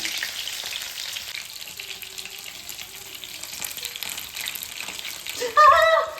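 Food frying in a pan in a home kitchen, a steady close hiss with brief clinks and a louder burst of activity near the end, no talk over it.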